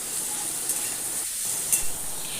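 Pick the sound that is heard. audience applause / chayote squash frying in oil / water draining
chayote squash frying in oil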